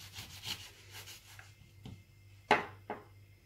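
Knife cutting through raw beef tripe with salt: a few faint scraping, rubbing strokes, then two sharper cuts close by, with no talking.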